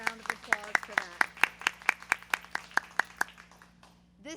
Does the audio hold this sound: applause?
yes